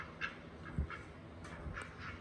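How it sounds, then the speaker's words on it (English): Ducks in a chicken coop give several short, soft quacks, spaced irregularly and heard from close by, over low background noise. "We have ducks in here."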